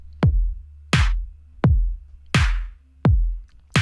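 A basic four-on-the-floor drum beat from a Splice sample: punchy kicks land evenly about every 0.7 seconds, with bright hissy hits on alternate beats, loud and dry.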